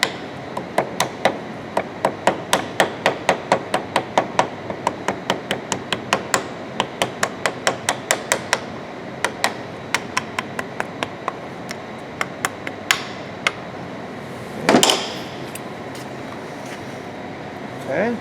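Sharp metallic hammer blows work around the edge of a gasket being made, struck in a steady rapid series that slows and thins out toward the end, close and loud, followed by a brief louder knock.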